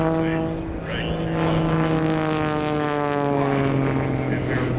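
A classically built biplane with box-X braced wings flies airshow aerobatics, its steady propeller engine drone holding loud and near throughout with a slight pitch shift as it maneuvers.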